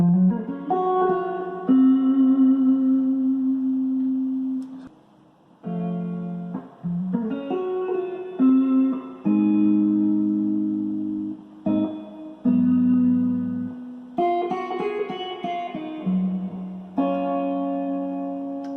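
A sustained electric guitar plays a slow melodic line with slides between notes, treated with effects and reverb, up close and with no talking.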